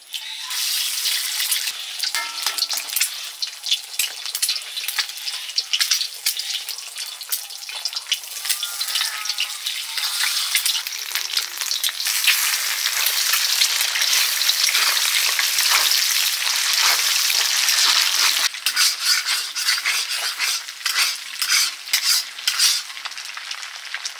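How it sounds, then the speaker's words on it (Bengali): An egg frying in hot white oil for egg chow mein, a steady bright sizzle and crackle running continuously for about twenty seconds, close and alone with no talking. "তেল গরম হয়ে গেছে, ডিম দিয়ে দিচ্ছি।"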